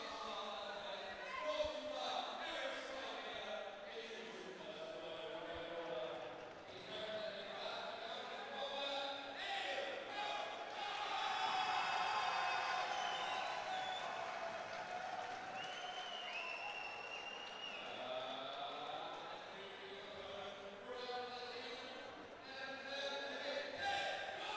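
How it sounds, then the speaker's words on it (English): Audience applause and crowd noise greet the introductions of two fighters before a bout, sustained clapping with an announcer's voice and scattered cheers carrying over it for about twenty-five seconds. "2 huge rounds of applause there for our fighters."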